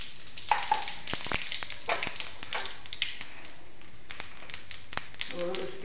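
Half a teaspoon of cumin seeds dropped into hot oil for a mint chutney and vegetable dish, a close crackling sizzle broken by sharp taps and stirring knocks of a spoon on the pan.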